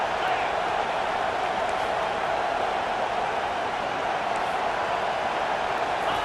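Stadium crowd at a UCLA versus Ohio State college football game roaring behind the defense on third down, a dense, unbroken wall of distant cheering at steady loudness.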